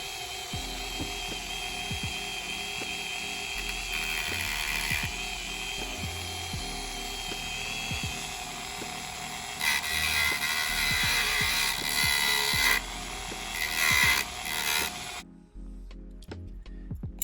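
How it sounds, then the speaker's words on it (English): A Dremel rotary tool shaving down a screw for a red dot sight mount on a pistol, a steady whining motor hum with repeated clicks and grinding bursts, close and continuous before cutting off near the end. "I got my Dremel out. We're just gonna shave the screw off just a tad, just enough."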